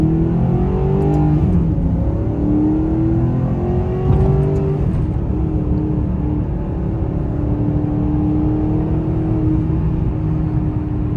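A 2009 Maserati GranTurismo engine pulling hard under acceleration, with a loud, close, rising engine note that drops at each shift and climbs again as the car keeps accelerating through the gears.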